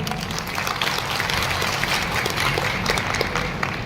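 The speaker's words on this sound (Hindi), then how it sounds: "एक बार जोरदार तालियां अपने लिए, अपने लिए।" A crowd at a business meeting or speech event claps loudly and steadily as a sustained wash of applause, with no talk over it.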